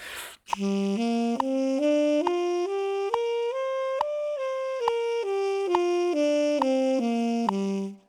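A single melodic instrument plays a steady arpeggio climbing note by note to a peak, then descending back down in even, strict time, clear and alone.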